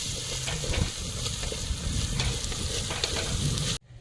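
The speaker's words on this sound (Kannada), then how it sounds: "ಈಗ ಟೊಮೊಟೊನ ಹಾಕಿ ಫ್ರೈ ಮಾಡ್ಕೊತಾ ಇದ್ದೀನಿ." Tomatoes frying in oil alongside dill, fenugreek leaves and coriander: a loud, dense, crackling sizzle up close with scraping stirs, steady throughout before cutting off abruptly at the end.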